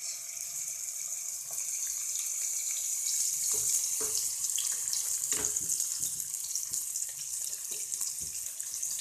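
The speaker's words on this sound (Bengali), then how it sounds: "আমি এখন ফ্লেমটা হাই করে মাছটা ভাজবো" Pieces of rohu fish fry in hot oil over a high flame, giving a steady, bright sizzling hiss with scattered crackles and pops throughout.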